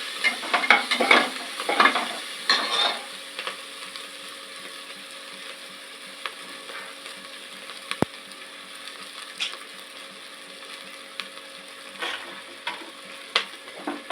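Small onions, about 150 grams, sautéing in a pan for sambar rice: a few rough scraping stirs at the start, then a quieter steady sizzle with occasional ticks.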